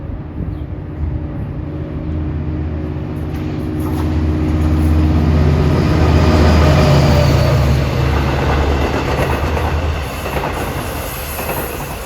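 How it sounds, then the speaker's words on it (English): An LIRR train, number 668 from Hunters Point Avenue to Port Jefferson, passes close through Woodside station, its loud rumble swelling in the middle with wheel squeal and clattering before easing off. "here comes train 668 out of Hunters Point Avenue to Port Jeff."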